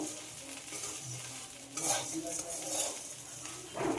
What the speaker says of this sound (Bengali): সব কিছুর সঙ্গে মুড়িটাকে ভেজে নেব।